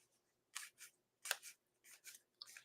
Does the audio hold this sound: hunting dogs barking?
no